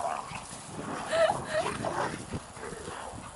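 Dogs scuffle and growl while play-fighting on a February walk with four dogs, with low snarls and yips mixed with rustling movement, moderately loud, and a person talks faintly in the background.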